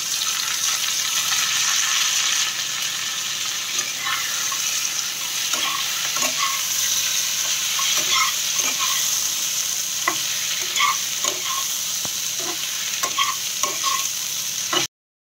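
Potato, eggplant, tomato and green chilli fry in a pan with a continuous loud hiss of oil, while intermittent utensil scrapes and stirring taps sound close by throughout and no one speaks.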